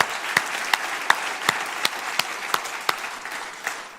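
A church congregation claps steadily for a few seconds, a rhythmic, fairly even round of many hands with occasional sharper individual claps standing out.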